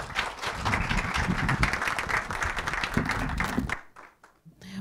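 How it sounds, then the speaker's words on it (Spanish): Audience applause for panelists at a forum on detention and prison conditions in the Dominican Republic, dense steady clapping that cuts off near the end, with a voice briefly heard after. "Un aplauso, por favor."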